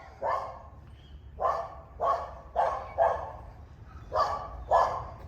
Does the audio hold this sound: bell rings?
no